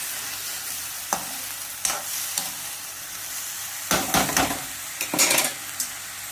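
Uncooked ration rice being stirred into a hot pan for methi pulao, a steady low sizzle broken by several scraping stirs and grainy rattles against the pan, close and alone without any talk.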